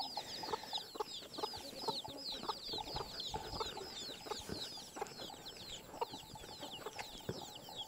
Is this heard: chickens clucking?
yes